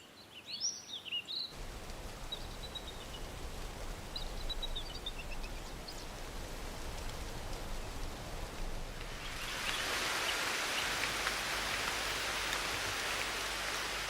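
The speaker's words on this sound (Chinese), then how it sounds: "一场大雨能让我们清楚地看到森林水土保持和水源涵养的功能。" Heavy rain pours down in a mountain forest, a dense broad hiss that swells louder toward the end, with a few bird calls near the start.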